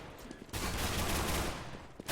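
Dense automatic gunfire bursts from a Counter-Strike match with P90 and Galil rifles in play, a loud sustained barrage of rapid shots after a quiet start, ending abruptly.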